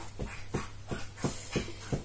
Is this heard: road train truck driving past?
no